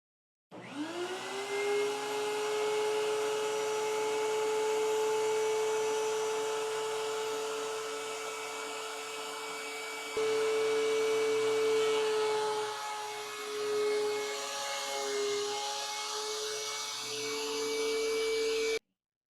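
A DeWalt 735X thickness planer runs steadily for about nineteen seconds without dust collection, giving a loud, constant motor whine that shifts slightly in pitch and load partway through.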